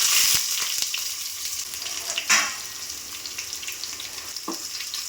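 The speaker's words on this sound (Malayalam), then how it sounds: "ഉലുവ ഇട്ടു, കടുക് പൊട്ടി, മുളക്, കറിവേപ്പില, ഉള്ളി." Fenugreek, mustard seeds, chili, curry leaves and onion sizzling and frying in hot oil for a ripe mango curry, with a steady crackle close by and a few sharp spatters and stirring knocks.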